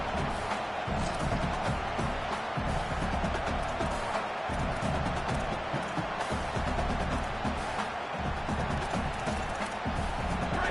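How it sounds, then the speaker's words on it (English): A home crowd at a football game roars and cheers steadily, a dense, loud wall of noise with no break. "how nice is it to have the home crowd going absolutely bananas?"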